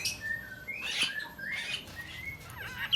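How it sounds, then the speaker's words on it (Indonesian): A small imported resiskin songbird calls in a string of thin, high whistled chirps and sliding notes, fairly close and clear against a quiet background. "Ini burung resiskin,"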